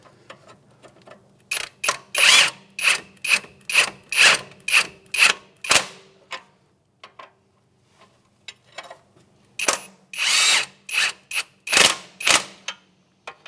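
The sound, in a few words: power tool snugging up 24 mm strut bolts on Acura MDX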